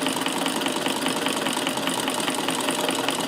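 A Davis vertical feed sewing machine driven by an electric motor runs steadily through a stitching pass, a fast even whir and mechanical chatter, loud and close with no voices.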